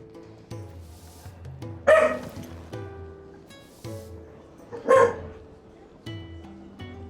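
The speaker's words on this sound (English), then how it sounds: "idiot dog" A dog barks in the Final Fantasy XVI game world, two sharp, loud barks spaced a few seconds apart over a low steady background hum and music.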